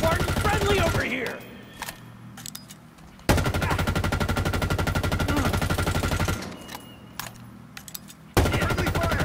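Automatic gunfire in Halo Infinite aimed at friendly marines, loud rapid bursts in two long stretches separated by quieter gaps, with voices shouting in between.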